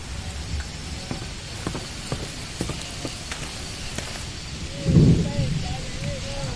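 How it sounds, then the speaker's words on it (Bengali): Rain falls in the Amazon rainforest near a hut, a steady, fairly soft hiss throughout, broken by a brief low rumble and a few short calls toward the end. "বৃষ্টি পড়ছে।"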